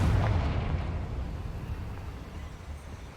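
A Confringo fire spell in Hogwarts Legacy, cast inside a goblin mine, bursts in a single deep, loud explosion whose rumble slowly fades out over a few seconds, with no talking.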